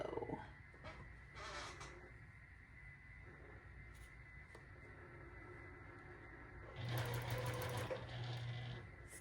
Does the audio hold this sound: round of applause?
no